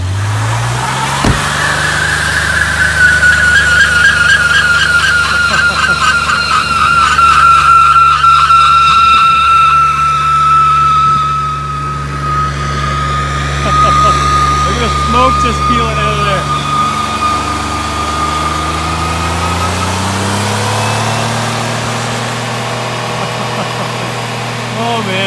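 Ford van doing a burnout with the e-brake on, its tires spinning against pavement in a long, loud, continuous screech over a roaring engine whose pitch rises and dips, with voices faintly beneath.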